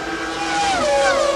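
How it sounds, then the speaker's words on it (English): A Formula 1 car at the 1995 Japanese Grand Prix, its engine wailing loud and high as the driver works the throttle, the pitch dipping and then climbing again over a second and a half of continuous sound. "And hear him play with the throttle."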